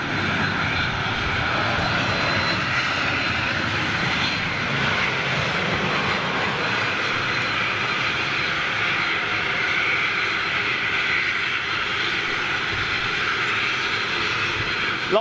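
Jet engines of a TUI Boeing 787 Dreamliner at an airport, a continuous even rumble and whine at moderate distance, steady for the whole stretch with no talk.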